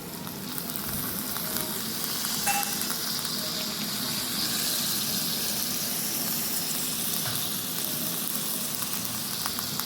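Chopped tomato added to frying spice masala for a cabbage and potato dish, a loud continuous hiss of sizzling that holds steady throughout with faint scraping, no voices.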